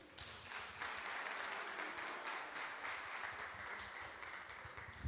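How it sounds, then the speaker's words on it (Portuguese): A church congregation applauds together through the whole stretch, a steady dense wash of clapping from many hands filling a worship hall, with no voice heard over it. "Aplauda o Senhor aí."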